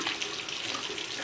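Water runs steadily from a bathroom sink tap while a cleaning cloth is rinsed under the stream, a close, continuous splashing rush with no voices.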